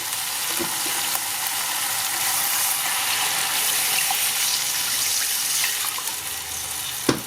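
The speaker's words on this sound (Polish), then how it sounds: "podleję odrobinę wodą" Water poured into a pan of browned pork roulades sets off a steady, loud sizzle and hiss that runs the whole time, with a faint clink near the end and no voices.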